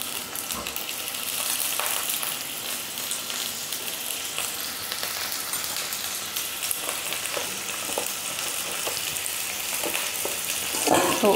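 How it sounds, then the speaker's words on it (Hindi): Potato pieces fry in a little oil in a pressure cooker, giving a steady, close sizzle with faint stirring scrapes throughout and no talking. "थोड़ा सा आलू को हम फ्राई कर लेंगे।"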